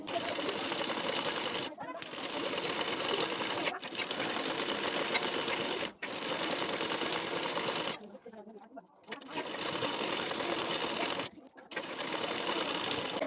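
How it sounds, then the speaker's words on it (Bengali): A sewing machine runs a press stitch along the edge of a blouse strip in fast, steady bursts of stitching, with several short pauses between runs. "পট্টির কানা বরাবর করে একটি চাপ সেলাই দিয়ে নেবেন"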